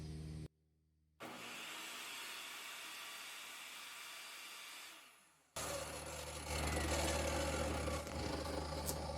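A VEVOR 4500 RPM portable table saw on a test run: a brief whir, then a cutoff, then a steady motor drone that winds down before restarting louder, a high, continuous whine running alone with no talk.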